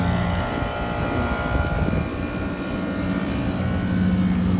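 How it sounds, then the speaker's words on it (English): The 3-phase compressor of a small chiller runs with a loud, steady mechanical drone and whir that holds without a break, and no one speaks. "A 3-phase compressor can turn backwards, so you got to make sure it's actually pumping and not just churning."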